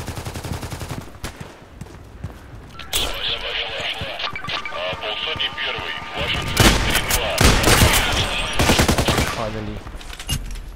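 Handgun shots in the shooter game Contract Wars, a rapid run of sharp pistol reports mixed with other gunfire and game effects, loud and close throughout.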